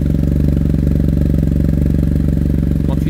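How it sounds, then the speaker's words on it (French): Steady running of a BMW F800 parallel-twin motorcycle engine, loud and close with an even low throbbing pulse and faint mechanical clatter, no talking. "On reconnaît bien cette signature auditive de BM."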